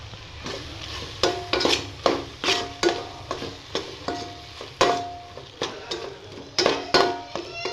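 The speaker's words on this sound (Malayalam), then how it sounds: "ഇതിലോട്ട് തേങ്ങ ഇട്ട് കൊടുക്കും എന്നിട്ട് നന്നായി മിക്സ് ചെയ്തെടുക്കാം" Cooked ripe jackfruit mixture with grated coconut stirred in a pan, a spoon scraping in repeated bursts of clanks and scrapes over a light sizzle, close and fairly loud.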